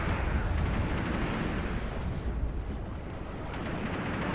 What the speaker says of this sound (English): Dropping some bombs